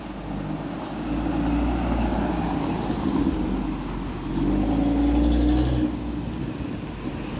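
A Lamborghini sports car with a V12 engine rumbles nearby with a loud, steady low drone that swells twice as it revs, set against an outdoor street.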